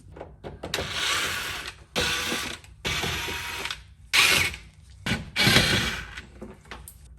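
Ratchet wrench working a 10mm bolt on the rear bumper of a Lexus SC430, several close, loud bursts of rapid clicking separated by short pauses, with no talking.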